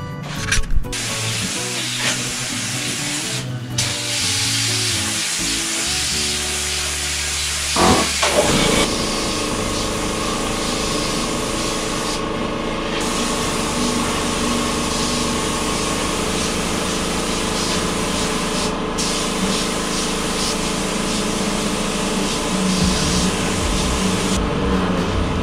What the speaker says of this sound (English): I'm going to now just give it a couple of light coats of acrylic primer filler.